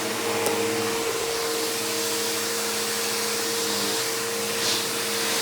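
A Bissell Powerforce Bagless Turbo 6596 upright vacuum runs with a loud, steady whooshing roar and a constant motor whine, close and unbroken throughout.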